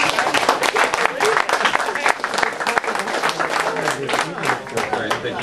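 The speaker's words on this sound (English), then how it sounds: "Can we get one last round of applause for our speaker, please?" An audience breaks into a sustained round of applause for a speaker at a lecture on the new secularism, dense and loud throughout, with a few voices mixed in.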